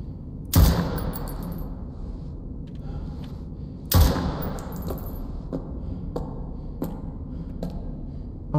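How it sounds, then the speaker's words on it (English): In a horror video game, two loud gunshot booms go off about three seconds apart. Each has a reverberant tail, and faint clicks and thumps follow in a quiet, eerie background. "Do I shoot it?"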